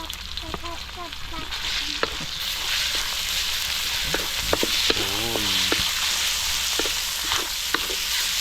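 Garlic fries in a hot pan, a loud, dense sizzle running throughout, while a spatula stirs and taps with sharp intermittent scrapes; faint voice-like tones surface briefly in the middle.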